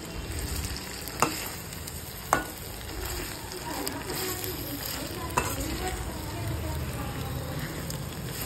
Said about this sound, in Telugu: ఆ తర్వాత మనం వేయించి పక్కన పెట్టుకున్న కాకరకాయలని వేసి కాస్త కలుపుకుందాం